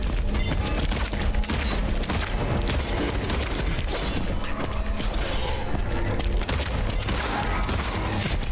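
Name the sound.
gunfire from Silent Hill 2 Remake video game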